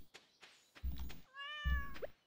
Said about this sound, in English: Hi, cat.